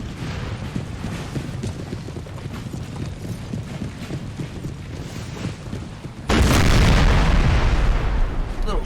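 Artillery fire during a Napoleonic Total War 3 battle, a dense rumble of distant cannon booms and crackling shots that jumps to a much louder, continuous roar of fire in the last few seconds.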